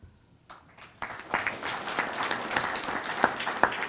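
Conference audience applauding sponsors at the Ohio Employee Ownership Conference, a few scattered claps swelling into sustained, fairly close applause that holds steady to the end.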